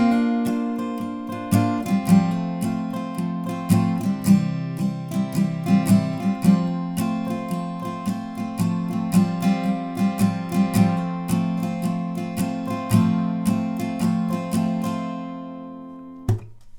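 An acoustic guitar strums the chorus chord progression of a song in an even, rhythmic pattern, crisp strokes over ringing chords, alone and close.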